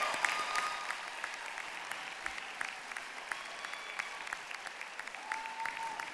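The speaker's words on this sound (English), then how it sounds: "Parents, let's give them a great applause." An audience of parents at a university graduate ceremony claps steadily, a dense patter of many hands sustained evenly throughout, heard from a moderate distance.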